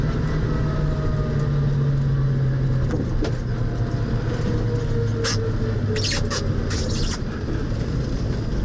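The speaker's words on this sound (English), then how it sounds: "Sorry about those squeaky shoes." Several short, high squeaks from shoes in quick succession near the end, over a steady engine and road rumble inside a 1966 Ford Mustang.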